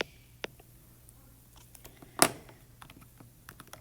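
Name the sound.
typing on a computer keyboard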